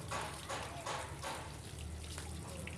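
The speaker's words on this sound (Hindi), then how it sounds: "ये पानी अब गिर रहा है और एक तरफ से आ रहा है।" Tap water runs steadily and fairly quietly into a basin where cloth is being soaked, a continuous splashing flow with a few louder pulses.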